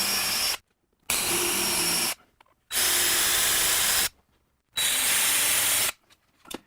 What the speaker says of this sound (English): I'm going to drill that through first.